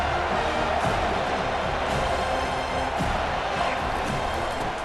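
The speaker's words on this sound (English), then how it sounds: "This crowd bringing an ear-splitting welcome to their visitors." A packed stadium crowd in EA Sports College Football 25 lets out a loud, steady roar at a top 25 matchup, a dense wall of cheering that holds for the whole stretch with no break.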